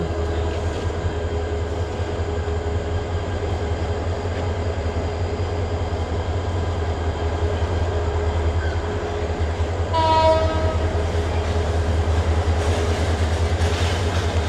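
A locomotive idles at a station on the Dhaka to Sylhet line with a steady low rumble and hum, and a brief horn-like tonal blare sounds near the ten-second mark.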